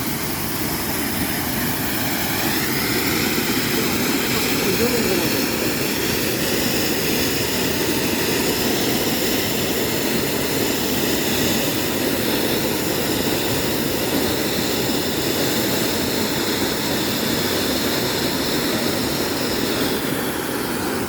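A Mothers brand five-face Bada Peacock firework goes off outdoors, giving a loud, sustained roaring hiss with rising and falling whistling tones that last throughout.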